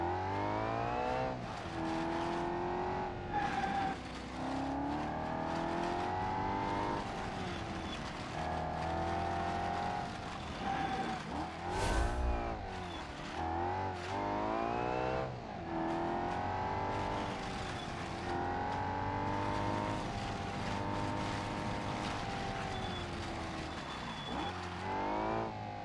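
A rear-engine, rear-drive race car in the BeamNG driving game, its engine droning and revving continuously through gear changes for the whole stretch, loud and steady with a brief burst of noise midway.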